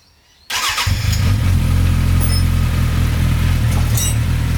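A homemade go-kart engine suddenly catches and runs steadily at a loud, close, throbbing idle with a mechanical chatter.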